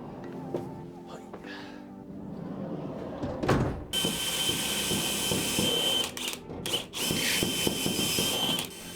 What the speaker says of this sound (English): we are drilling out the space for our jigsaw blade to start the cut